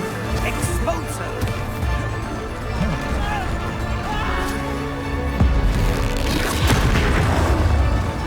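Expulso spell blast in Hogwarts Legacy during a troll boss fight, heavy booming impacts and crashes layered over a dense game mix, with voices speaking over the action.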